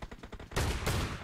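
Gunfire in PUBG Mobile during a team deathmatch: a rapid burst of close automatic shots, then a heavier, louder blast of fire that sustains to the end.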